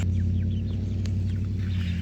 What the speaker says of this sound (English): we have a very definite rooster there and a couple of hens